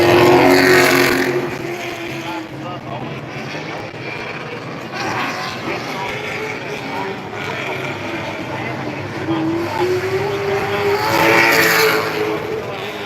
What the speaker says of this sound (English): So that's number 37 machine of Les Benton making its way on the racetrack right now